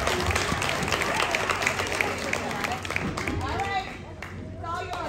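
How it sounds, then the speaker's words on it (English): Applause and clapping from an audience at a school winter chorus concert, a steady dense wash of hands lasting throughout, with crowd murmur and voices mixed in as it tapers near the end. "Applause."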